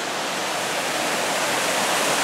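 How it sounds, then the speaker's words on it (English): Cataract Falls waterfall near Fairfax, California, a steady broadband rush of falling water that fills the whole clip evenly, close and loud with no voices. "The waterfall's so pretty."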